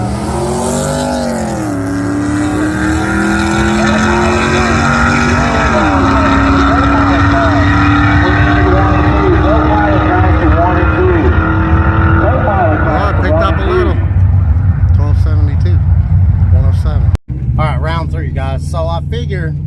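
A drag race car fitted with a Turbosmart manual boost controller runs hard for most of the stretch, loud sustained engine roar with rising harmonics as it pulls through gears, then fading near the end while people talk over it.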